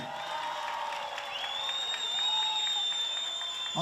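A concert audience at a 29 October concert applauds and cheers warmly. Dense, steady clapping carries through, with rising whoops and high whistles over it and some voices mixed in.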